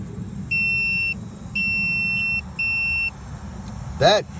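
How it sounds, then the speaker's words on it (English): Three electronic beeps from a multimeter continuity test, each steady high tone lasting about half a second, then a brief squeaky noise at the end. "if you got continuity between these two pins, it'll beep"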